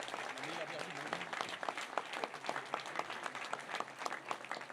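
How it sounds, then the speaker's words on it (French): An audience at a New Year's greetings ceremony applauds the co-founder of Gutsi Kombucha, with a scattered patter of claps running under a voice that keeps talking. "Donc, on peut l'applaudir"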